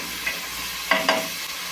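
Three cloves of minced garlic sizzling in a pan, with a steady frying hiss and a couple of brief scraping stirs from a utensil, heard close up with no talking.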